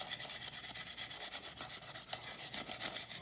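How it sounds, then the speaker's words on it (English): Steady scrubbing of a burnt cooking pot with a dry ramen noodle packet, a close, rapid, rough rubbing with repeated back-and-forth strokes and no talking. "Just keep on scrubbing and you're getting in there."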